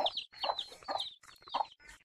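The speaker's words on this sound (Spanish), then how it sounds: "Mira qué pollo tan chino" A chicken clucks repeatedly in short, close bursts with brief pauses between them, loud and clear, no talking.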